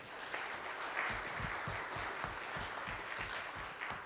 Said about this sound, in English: give them guys a round of applause